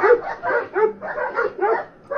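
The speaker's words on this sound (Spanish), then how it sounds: "Miren, los perros peleando." Dogs fighting, with a rapid run of close, loud barks, yips and whimpers that keeps going almost without a break.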